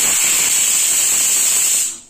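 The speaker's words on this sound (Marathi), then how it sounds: "आता कुकरच्या शिट्ट्या झाल्यात." A pressure cooker whistling as carrot halwa cooks, a loud, steady high-pitched hiss held for about two seconds before it cuts off abruptly.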